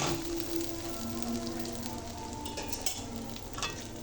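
Rice stirred in hot ghee in a pan while cooking jorda pulao, a continuous close sizzle and frying crackle with occasional scraping stir sounds, no talking.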